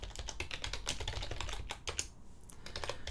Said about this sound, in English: first we type make, and then we say sudo make install